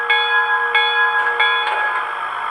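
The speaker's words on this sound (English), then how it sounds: "This is the bell that I have chosen." A model locomotive bell from a Tsunami 2 DCC sound decoder in an IHC 2-10-2 rings steadily with repeated metallic strikes about every half second, clear and close with no talking.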